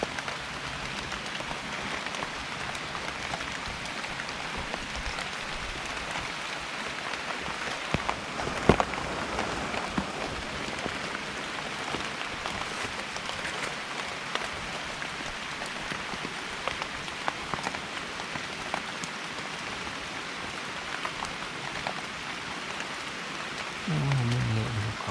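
Steady rain patters on leaves and ground while eucalyptus and other wild mushrooms are picked under banana-leaf cover, a dense continuous hiss lasting throughout with a few sharper drips and no talk.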